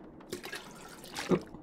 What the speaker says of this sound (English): Quite a bit of toilet water.